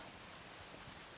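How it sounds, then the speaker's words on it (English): Heavy rain comes down hard in a storm as a faint, dense, even wash of hiss, steady and distant-sounding with no distinct drops or voices. "The rain really started coming down hard."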